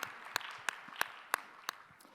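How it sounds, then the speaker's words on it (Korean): A young adults' church congregation at Sunday worship gives faint, widely spaced applause. About six distinct claps stand out over a soft background, distant and quiet. "우리 박수로 서로의 신앙과 삶을 응원하고 축복합시다"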